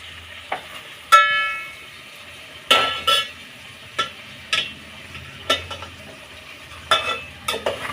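Onions fry with salt in a pan for a mushroom pulao, a soft steady sizzle under repeated sharp scrapes and taps of a spoon stirring against the metal pan.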